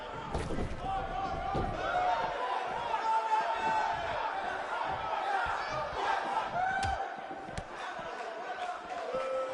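A sold-out, record-setting wrestling crowd roars steadily throughout, with dense cheering and shouts, scattered slams and an arena announcer's voice woven into the din.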